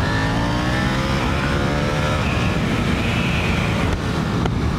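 A KTM 890 Duke R motorcycle engine revs steadily up close, then the pitch stumbles and cuts out briefly as the shift into second gear fails to engage.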